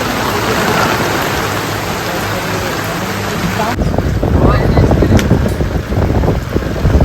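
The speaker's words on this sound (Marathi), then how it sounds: "पाऊस पण डंबर पडत आहे" Heavy rain pours down loudly and continuously at a shrimp farm in New Mumbai, with gusts of wind buffeting the microphone.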